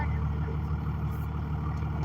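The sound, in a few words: loud truck engine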